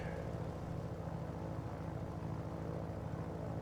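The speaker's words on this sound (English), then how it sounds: "So, throttle back, prop pitch back, just let it glide." A Grumman F4F-4 Wildcat in a flight sim glides with the throttle pulled back, its propeller engine a steady low drone that holds even and unbroken.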